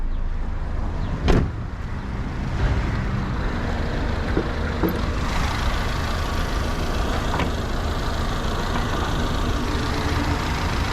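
A 2009 Hyundai i10 with the 1.1 engine and automatic gearbox idles nearby, a steady low rumble under ambient noise, with a single sharp thump near the start.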